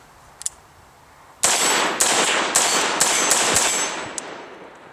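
A rifle fitted with a Lantac Dragon muzzle brake fires rapidly outdoors, about seven loud, sharp shots in quick succession with ringing tails, after a couple of faint clicks.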